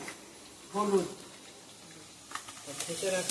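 Chopped garlic hits hot oil with a soft sizzle that swells in two short bursts, while a person talks over the frying.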